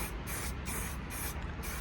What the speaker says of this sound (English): I'm painting it with a spray can, like the same as the valve cover.